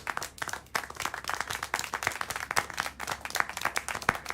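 Applause in the video game Syberia The World Before: a steady patter of many hands clapping in quick, irregular bursts that fill the whole stretch, with no speech over it.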